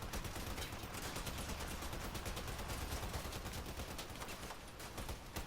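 Shotguns fire in the vehicle combat game Crossout, a dense, sustained stream of rapid blasts that continues with barely a pause.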